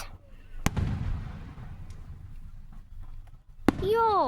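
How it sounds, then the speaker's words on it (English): Outdoor fireworks give two sharp, loud bangs about three seconds apart. A low rumbling decay follows the first, and a voice calls out right after the second. "Big fireworks."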